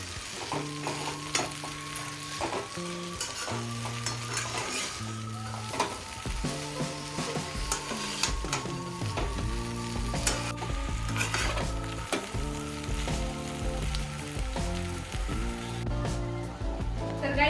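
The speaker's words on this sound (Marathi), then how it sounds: "मला भरपूर सारे स्प्रिंग ओनियन आवडते त्यामुळे मी जास्त टाकणार एकदम टेस्टी छान मिक्स करून घ्यायचं" Desi Hakka noodles with plenty of spring onions are tossed in a hot pan, a long steady sizzle with repeated scraping stir strokes under a constant background of music tones.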